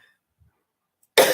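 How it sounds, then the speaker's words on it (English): A single short, sharp cough breaks out at the very end after near silence, close and fairly loud. "I have a bit of a cough right now"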